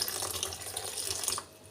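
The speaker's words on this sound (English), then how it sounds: "I had to pour in more water, then set aside to settle down." Water pours steadily into a hibiscus zobo mixture, a continuous close splashing stream that stops abruptly near the end, with no talk.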